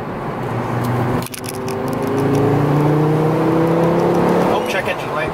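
An older Volvo engine revs under load, a rising mechanical tone climbing steadily and held before easing off, fairly close, with a sharp knock early on.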